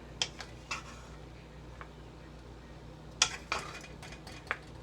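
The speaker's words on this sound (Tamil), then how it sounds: "டிஃபன் பாக்ஸில் போட்டுடலாம்." Coconut rice being spooned into a steel tiffin lunch box, faint metallic clinks and taps of a spoon against the container, a few scattered light knocks in a quiet kitchen.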